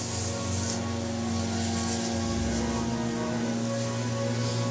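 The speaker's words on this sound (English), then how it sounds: "And then we'll just spray the rest of this, get a good little thing on it." Cleaning chemical sprayed onto a urine-soaked carpet, a steady close hiss of mist running through the whole stretch with a slight rubbing texture, loud and without talk.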